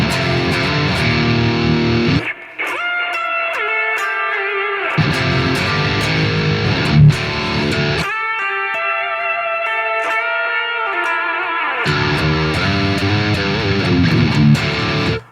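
A heavily distorted high-gain amp plays chugging riffs that switch to lo-fi, filtered passages washed in reverb and delay, loud and alone with no talking, with the echo tails carrying over.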